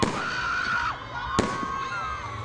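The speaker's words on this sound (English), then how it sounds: "Fireworks were vividly at their top notch." Fireworks at a New Year celebration in Uganda, a sustained crackling and booming display with a sharp loud burst midway, carrying on steadily throughout.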